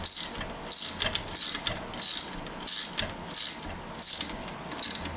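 A ratchet tightens the front strut nut on a Honda Civic, quick clicking bursts repeating in an even rhythm of about eight strokes, close and clear with no talk.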